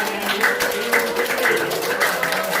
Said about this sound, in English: Let's welcome those 2 students with big round of applause